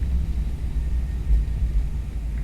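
An airliner's engine 2 winds down after shutdown in a flight simulator, an Airbus A319 with IAE engines: a steady low rumble that holds loud through the clip with slight surges, no voices.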